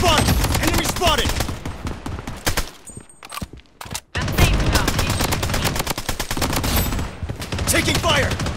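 Rapid automatic gunfire and bursts of shots in the video game Project Bloodstrike, loud and dense with a brief lull midway before the firing resumes, under game voice callouts.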